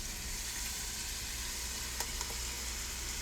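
Green chili sizzles in a hot pan of Spanish rice, a steady, loud frying hiss throughout with a faint stir or clink partway.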